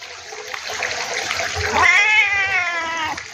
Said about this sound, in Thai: น้องแมวตัวนี้ไม่ได้เลี้ยงนะผู้ชม